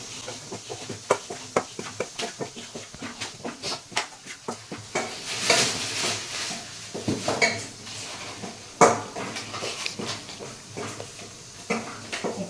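Flour dry-roasted and stirred in a pan while preparing Ganesh Chaturthi offerings: a steady run of light scraping and clinking of a spoon against the pan, with sharper metallic knocks now and then, close and moderately loud, with no voice.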